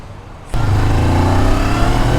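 A Honda CB650R motorcycle accelerating in second gear: the engine cuts in abruptly and holds a loud, steady, close-up drone with strong rumbling tones.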